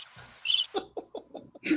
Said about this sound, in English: put the crickets on